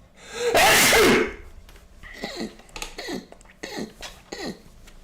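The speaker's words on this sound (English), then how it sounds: "Yeah, I had to sneeze." A single loud, explosive sneeze from one person bursts out at close range, followed by several breathy gasps and throaty exhalations.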